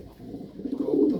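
A pigeon in a loft gives a low, soft coo close by, one rolling call swelling toward the end of the short moment.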